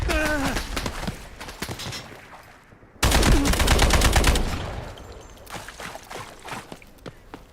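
Bursts of gunfire aimed at an alligator in the shooter game Delta Force: a loud, dense volley hits abruptly after quieter rattling shots, then sporadic crackling fire trails off, with no talk over it.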